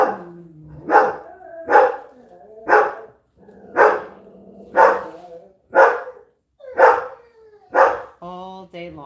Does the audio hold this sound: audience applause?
no